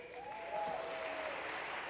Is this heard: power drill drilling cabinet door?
no